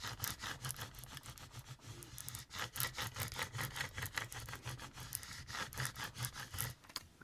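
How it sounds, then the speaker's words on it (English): Repeated rhythmic scraping strokes across a craft piece made of many little pieces, steady back-and-forth rasping close up with no talk. "So now I'm going to scrape."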